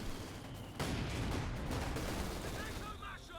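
Machine gun fire in a Company of Heroes 2 match, a dense, continuous barrage of gunfire and battle noise running throughout at steady loudness.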